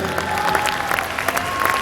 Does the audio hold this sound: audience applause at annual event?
yes